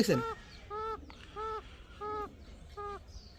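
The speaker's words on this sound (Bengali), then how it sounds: "অ্যারাবিয়ান ককা সিঙ্গেল একটা মাদি কবুতর, এই একা একাই সারা রাত কক কক কক কক করতেই থাকে।" A lone female Arabian kokka pigeon gives five evenly spaced, nasal honking coos, close but fairly soft, with a brief harsher noise at the very start.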